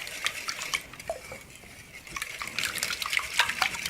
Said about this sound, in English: Now we'll whisk this together.